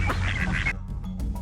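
A duck quacks loudly in a quick series of nasal calls, then a brief pause before a few fainter quacks trail off, with no voices.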